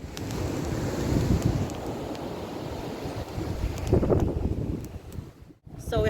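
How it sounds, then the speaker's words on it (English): Steady gusting wind roars across a Jamaican beach, with surf rumbling underneath, continuous and loud with buffeting on the microphone throughout. "But it's pretty windy."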